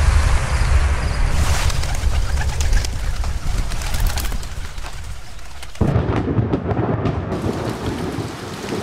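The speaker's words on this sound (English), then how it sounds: "Sounds like a storm is coming." Thunderstorm in the video game A Bird Story: steady heavy rain and deep rumbling thunder fill the scene, with a louder surge of downpour partway through and faint bird calls in the background.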